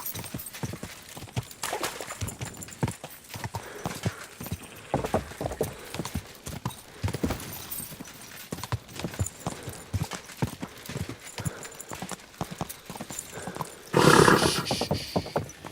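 Steady clip-clop of horse hooves at a walking pace in the video game Kingdom Come: Deliverance II, close and rhythmic, with a brief burst of louder noise near the end.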